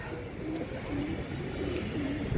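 Domestic pigeon cooing softly in a low, repeated rumbling pattern, steady background noise with no talk, the bird kept at a coloring setup where it is being painted.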